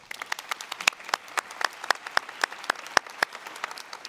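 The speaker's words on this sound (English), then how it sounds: "So if you don't mind applauding them as well." A modest audience at a business assembly applauds, with individual claps distinct and close rather than a dense roar, lasting about four seconds.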